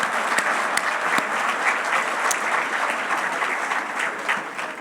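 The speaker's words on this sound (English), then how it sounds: "Can we get a round of applause for all of our sponsors today for being here this morning?" Sustained applause from a morning commercial real estate forum audience for the event's sponsors, a dense, even clapping from a large room heard alone for several seconds.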